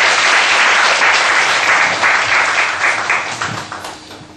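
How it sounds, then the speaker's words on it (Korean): Church congregation applauding at a Sunday worship service, a dense, sustained wash of clapping from many hands that fills the room and gradually tapers off toward the end. "감사하며 박수하시겠습니다"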